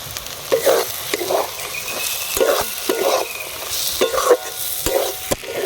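Ground spice masala is sautéed in a pan for a prawn and stuffed brinjal dish, with a soft background sizzle broken by repeated, rhythmic scraping strokes of a spatula about once a second.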